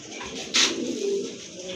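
Big black-check racer pigeons at a pigeon market coo softly in a low, throaty murmur, with a brief sharp rustle or flutter early on against steady background noise.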